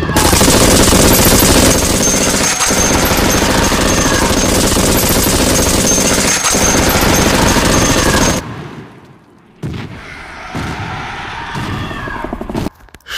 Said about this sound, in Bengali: তবুও সৈন্যরা তাদের ভারী মেশিনগান দিয়ে গুলি চালাতে শুরু করে